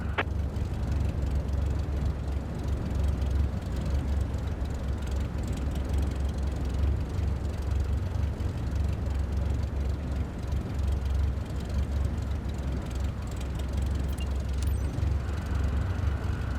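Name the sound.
aircraft taxiing in Flight Simulator 2025 video game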